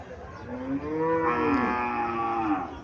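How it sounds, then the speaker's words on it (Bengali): Sahiwal breed cows mooing at a cattle sale, with several long, loud, drawn-out moos overlapping one another close by, and no talking. "ছটা যাচ্ছে সাইবাল জাতের গাবি ছটা যাচ্ছে"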